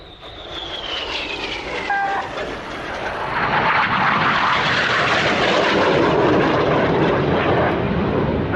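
Aerobatic display jets fly the synchro pair carousel, opposing 360-degree 6G turns with the pair crossing three times; a loud, continuous jet roar swells and stays heavy throughout.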